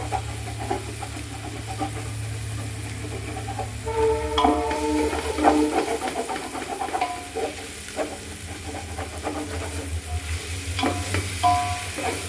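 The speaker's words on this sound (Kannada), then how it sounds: "ಇದೆಲ್ಲ ಚೆನ್ನಾಗಿ ಫ್ರೈ ಆಗಬೇಕು. ಅಲ್ಲಿವರೆಗೆ ನಾವು ಫ್ರೈ ಮಾಡ್ತಾ ಇರಬೇಕು." Ginger-garlic paste for coconut chicken biryani fries on a low flame with a constant sizzle, broken by the clink and scrape of a stirring spoon over a low humming drone.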